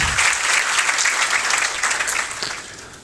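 Loud, sustained applause from an audience cheering the teachers at a ceremony honouring a young candidate's government job selection, steady throughout and fading slightly near the end, with no talk over it.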